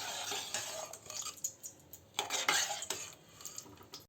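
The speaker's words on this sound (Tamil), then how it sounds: "நல்லா ஒரு கப் கெட்டி தயிர் வந்து இதில் சேர்த்து நல்லா வந்து மிக்ஸ் பண்ணிக்கலாம்." A spoon scrapes and clinks against a pot as thick curd is stirred into avial, with irregular close scraping strokes and soft wet mixing sounds, no talking.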